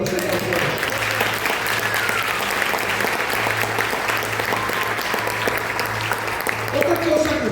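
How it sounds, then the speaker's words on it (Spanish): A church congregation applauds the Lord with loud, sustained clapping and scattered shouts, while a voice carries faintly beneath the steady din. "¿Qué tal se aplaude a nuestro Señor?"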